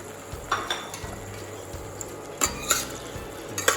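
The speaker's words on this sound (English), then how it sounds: "I'm going to slow cook this until the gooseberry is soft." Star gooseberries sizzling in hot oil in a pan, with a soft steady frying hiss and a few sharp clinks and scrapes of a utensil stirring against the pan, close and fairly quiet.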